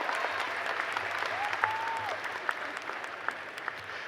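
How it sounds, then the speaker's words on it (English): Crowd applause for graduates at a Tougaloo College commencement ceremony, a steady dense wash of clapping with a few sharper individual claps and faint voices underneath. "Let's give that a round of applause."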